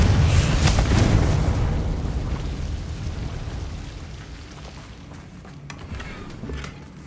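A Confringo blasting curse in Hogwarts Legacy detonates in a loud, booming explosion that rolls out and slowly decays into a fading rumble, with a few faint crackles afterward.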